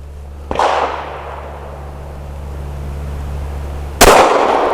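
Two sharp pistol shots from a PSA Dagger firing Winchester Elite Defender 147 grain bonded jacketed hollow points, nickel plated, spaced about three and a half seconds apart, loud and close, each with a short ringing decay.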